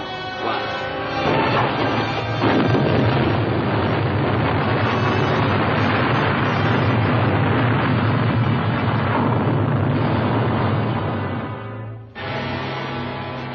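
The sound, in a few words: explosions after firing a salvo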